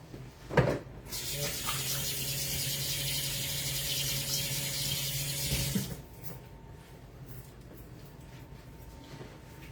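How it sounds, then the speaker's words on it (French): Hands washed under a running kitchen tap: a sudden steady rush of water starts after a brief clatter, holds evenly for about five seconds, then cuts off, leaving quiet room tone without speech. "Et bien sûr, on se lave les mains."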